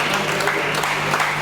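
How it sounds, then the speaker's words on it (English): Applause from an audience at an ANCA dinner party, a steady, dense wash of clapping hands filling the room without pause, heard alone with no voices over it. "Please, let's give them a round of applause."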